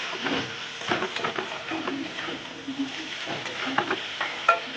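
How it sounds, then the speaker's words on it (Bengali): Egg chow mein being stir-fried in a pan, a steady close sizzle with repeated scraping and stirring strokes throughout. "চাউমিনটা ভাজবো"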